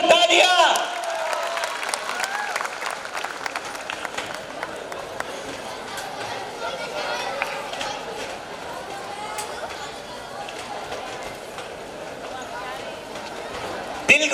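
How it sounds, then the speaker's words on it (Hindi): Steady applause from a large audience, clapping continuously at moderate volume with some crowd chatter mixed in. "कश्मीरियों के लिए जोरदार तालियां।"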